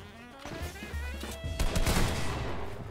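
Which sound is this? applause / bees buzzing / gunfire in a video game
gunfire in a video game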